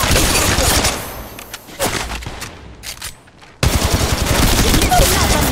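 Dense automatic gunfire in Apex Legends Mobile on an iPhone 13, rapid loud bursts that break off briefly, then return as a sustained close-range barrage.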